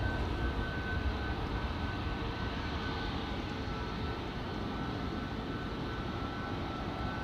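A Ryanair Boeing 737 MAX 8 departing Amsterdam Schiphol Airport gives a steady, broad engine roar at moderate distance, continuous and unchanging throughout, with no voices.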